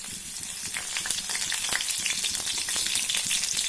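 Garlic and dried chillies fry in oil, sizzling and crackling steadily, a dense close hiss with small pops throughout.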